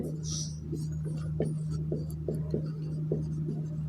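Numbers being written on a board during a maths lesson, a series of short faint chalk or marker strokes in an uneven rhythm over a steady low electrical hum.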